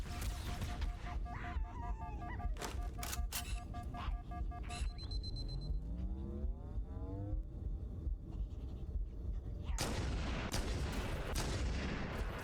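Gunfire and weapon effects in the video game Halo: Combat Evolved, a dense stream of sharp repeated shots and sweeping electronic tones over constant game rumble, loud and continuous with no talking.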